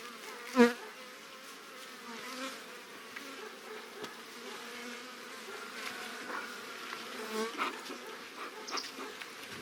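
Steady, close insect buzzing from many bees, a continuous hum with one sharp knock near the start.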